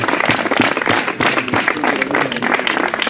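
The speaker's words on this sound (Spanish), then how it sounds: "así que un aplauso para él" Spectators applaud a fighter after a bout at an Iberian medieval combat fair in Barchín del Hoyo, a brief burst of brisk outdoor clapping from a crowd.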